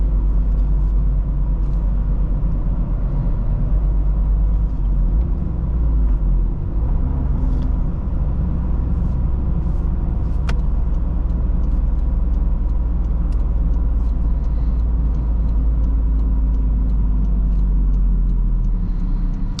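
Inside a 2023 Toyota Corolla GR on a hot-day road drive, a steady low engine and tyre rumble with road noise holds throughout, close and constant, with no talking.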